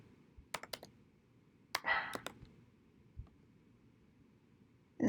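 A username and password typed on a computer keyboard: a few quick separate key clicks, then a brief burst of clustered taps, a pause and one more click, all quiet and close.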